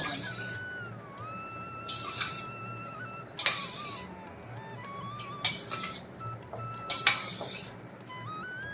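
Tamarind rice being folded in a metal pan, with repeated clinks and scrapes of a spoon against the pan coming in irregular bursts, close and fairly loud, with no talk.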